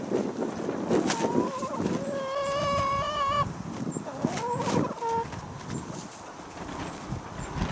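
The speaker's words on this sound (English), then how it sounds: "Going to have a look at the hens?" Hens in an allotment, some of them rescued birds, give a few drawn-out clucks and a squawk close by, amid rustling and brief quiet speech.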